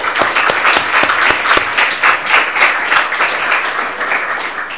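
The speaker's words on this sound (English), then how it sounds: "I want to give you another round of applause." Lunch-talk attendees give a round of applause, a full steady patter of many hands with a few sharp individual claps standing out near the start.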